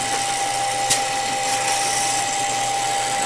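Pneumatic Wade lathe tapping machine running on hex nuts, a steady high whine with a constant tone and one brief clack, close and loud.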